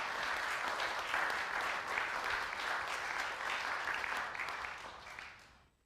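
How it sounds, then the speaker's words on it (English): A room full of people applauds together in a dense, steady patter of clapping that carries on evenly at a full level before fading out near the end. "Can we give John a round of applause"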